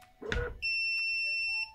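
An Acmeda Zero ARC 5V battery-powered blind motor sounds one short electronic beep after a soft click, signalling tilt mode, a clear steady tone lasting about a second in a quiet room.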